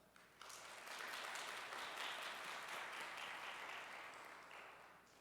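A church congregation gives a warm round of applause at a mission society dedication service. The clapping starts suddenly, holds steady for several seconds, then slowly thins out. It sounds fairly distant and soft.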